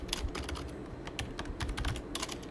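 Close, rapid typing on a computer keyboard while writing Unity DOTS code, a dense run of sharp key clicks with a few brief pauses and no speech.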